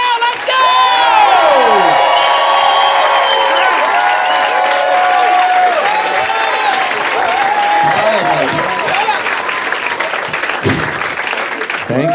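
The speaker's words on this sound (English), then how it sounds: "everybody, please, a big round of applause for Mr." A comedy club crowd greets stand-up comedian Sam Morril with loud, sustained applause, cheering, whoops and shrill whistles, with a host's voice over the roar.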